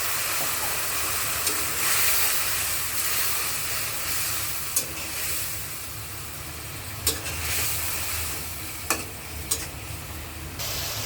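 A spice paste with green chilies and a splash of water sautés in oil, giving a soft continuous sizzle and hiss with occasional sharp spatula clicks against the pan as it is stirred.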